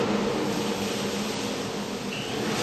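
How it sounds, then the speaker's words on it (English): A shop dust collection vacuum running for woodworking, a steady, broad, loud roar of rushing air with no breaks. "the vacuum comes on"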